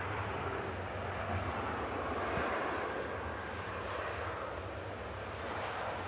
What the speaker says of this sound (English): What a smooth touchdown that was from the EasyJet.